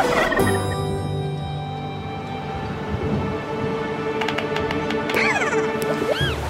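A cartoon farm turkey gobbles over bright background music, with rumbling storm-like noise building underneath and a few rapid gobbling bursts near the end.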